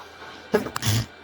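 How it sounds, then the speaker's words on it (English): One short, sharp sneeze close to the microphone, a quick intake followed by the burst, with no talking around it. "not have me sneezing in your way"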